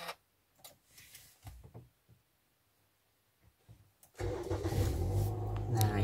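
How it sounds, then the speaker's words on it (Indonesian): A Toyota Yaris car, heard from inside, gives a few soft ticks and clicks in near silence before its engine cranks and catches, then settles into a loud, steady idle. "Kita nyalakan dulu mobilnya."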